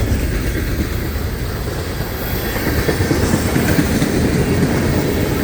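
A long manifest freight train rolls steadily past close by, a continuous loud rumble with rhythmic clacking of wheels over rail joints and no voices.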